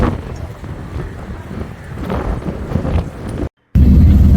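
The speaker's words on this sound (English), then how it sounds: "wind is so strong I can't hold the phone still." Strong gusts in the Falkland Islands batter the microphone with rumbling, uneven low buffeting, briefly dropping to silence before a louder blast resumes.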